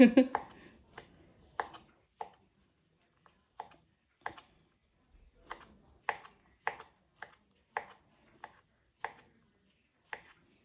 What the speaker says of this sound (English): I should have cut it this way earlier, lengthwise, and then, you know, slice them.